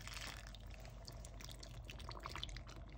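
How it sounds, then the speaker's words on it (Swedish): Liquid pours over plums in Madeira wine, a soft steady splash and trickle close by, fairly quiet, with faint drips toward the end. "Så häller jag på."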